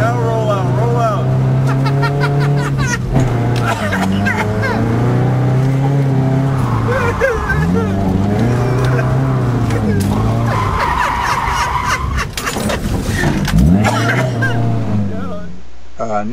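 A very small four-wheel-drive vehicle revs and drives off, its engine loud and close with rising and falling pitch as it accelerates, while voices talk over it.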